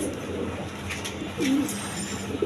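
A female Oriental pigeon gives a low, soft coo partway through, with fainter throaty murmurs around it against steady background hiss and no talk.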